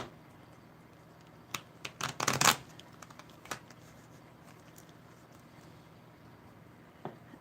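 Russian Gypsy Lenormand fortune-telling cards shuffled by hand: a short, soft flurry of riffling card flicks, followed by a few scattered quiet taps against a faint background hiss.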